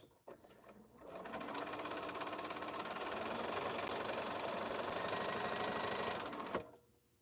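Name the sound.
sewing machine quilting lines on a quilt top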